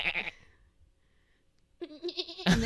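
A person imitates a goat with short nasal bleats, one at the start and a wavering longer one near the end, close and fairly loud against a quiet background.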